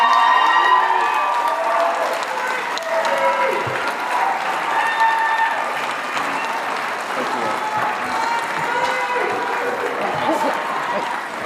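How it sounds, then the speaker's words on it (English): An audience applauds after an Ohio Republican U.S. Senate candidates' debate, with steady, dense clapping from a large crowd that carries on without a break for about eleven seconds. "Please go ahead and applaud now"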